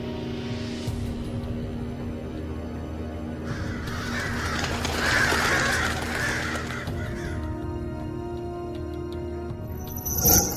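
A crow in an animated island adventure cawing alone, a few harsh rasping calls rising in the middle, fairly close, over a quiet background, with a bright chime-like sparkle at the end.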